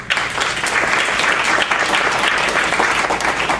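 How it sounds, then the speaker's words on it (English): Applause from a meeting audience honoring the principal of the year, a steady close wash of clapping that runs through the whole stretch with no break. "give him a round of applause"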